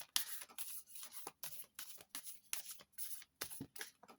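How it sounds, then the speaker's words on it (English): Close, crisp riffling bursts of tarot cards being shuffled, repeating in a quick, uneven rhythm with brief pauses between each shuffle. "I'm just going to shuffle behind the camera."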